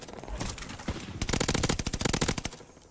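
The Automaton assault rifle in Call of Duty: Vanguard fires in rapid, loud bursts, starting with scattered shots and then a sustained stream of gunfire.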